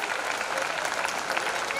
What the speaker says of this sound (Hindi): जोरदार तालियों के साथ हमारे गेस्ट और आपका खुद का भी आप प्लीज स्वागत करें।